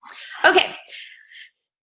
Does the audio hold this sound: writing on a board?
no